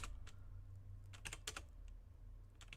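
Bursts of typing on a computer keyboard, scattered quick keystrokes in short clusters over a steady low hum, fairly quiet and close, with no voices.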